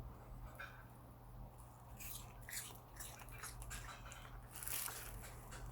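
A dog bites and chews a piece of apple in soft, faint, irregular crunches and wet smacks, close up against a quiet room hum with no talk.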